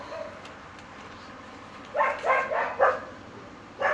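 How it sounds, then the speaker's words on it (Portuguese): A dog barks at movement on the street outside, a burst of four quick barks followed by a pause and one more, moderately close over a quiet room background. "Qualquer movimento na rua, ele late."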